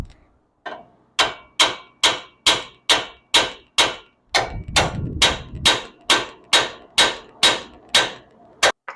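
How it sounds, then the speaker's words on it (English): A hammer strikes a Nissan Titan tie rod arm to free it from the spindle in a steady run of sharp, ringing metal taps, roughly two per second, close and loud with brief clanging decays. "take yourself a hammer, and you're just going to tap that a few times"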